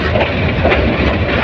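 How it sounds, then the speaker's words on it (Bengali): The Kishorganj Express on the move after dark, heard from on board as a loud, dense, steady rumble of wheels and carriage noise, unbroken for the whole moment. "অন্ধকারের মধ্যে ট্রেন ছুটে থাকছে"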